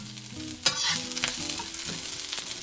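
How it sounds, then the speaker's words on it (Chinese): Shallots hit hot oil in a wok and are stir-fried, giving a steady sizzle with a sharp scrape or clatter near the start and further stirring scrapes, close and fairly loud, with no talking. "先加入红葱头爆香"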